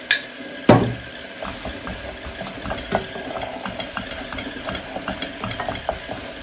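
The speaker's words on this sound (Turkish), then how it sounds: "Şimdi salçasını ilave etme zamanı şöyle yarım kaşıktan biraz fazla salça. Bunu da güzelce kavuracağım." Tomato paste is stirred into fried onions in a pot for Turkish düğün soup. A spoon strikes the pot once, loudly, and then scrapes and taps rhythmically over a soft, steady sizzle, close up, with no talk.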